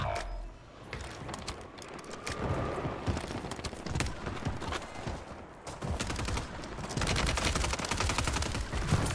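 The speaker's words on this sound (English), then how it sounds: "Hey, I'm getting sniped." Gunfire in the video game Warzone Rebirth, with dense repeated sharp shots and cracks in a busy burst-filled stretch, some near and loud, under faint game noise.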